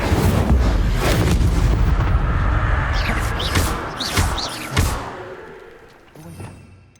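The Incendio fire spell is cast in Hogwarts Legacy, landing as a string of loud whooshing, booming bursts over a rumbling low roar that fades toward the end, with no talking heard.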